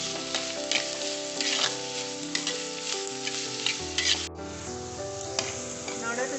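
Finely chopped onions, curry leaves and green chilies sautéing in a pan, a close sizzle with scraping stir strokes over steady background music that shifts partway through, no talking.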